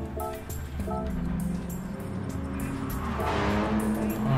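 A 1990 Mazda RX-7 GT-X (FC) race car with a rotary engine in Gran Turismo Sport holds a steady, droning engine note that rises slightly toward the end, with no one talking.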